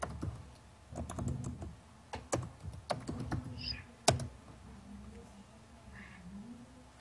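Typing on a computer keyboard during a Minecraft factions server session, a few close irregular clusters of key clicks and sharp taps, then quieter, with faint background hum.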